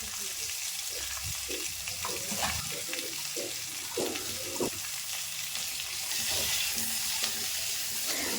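Potato pieces fry with salt and turmeric in a pan, later joined by pointed gourd, giving a loud, continuous close sizzle broken by spatula scrapes and stirring knocks, with no talk over it.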